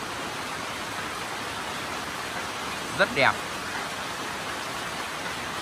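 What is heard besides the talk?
rain falling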